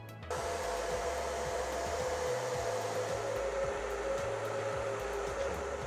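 A handheld hair dryer blows over curly hair, its steady, loud whirring airflow starting abruptly and running continuously without pause.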